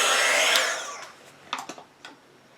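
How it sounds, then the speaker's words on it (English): A heat tool blows with a loud steady whoosh while drying dye-based ink on a card, then cuts off after about a second, followed by a few soft taps and handling knocks. "Heat set a little bit, make sure that ink is dry."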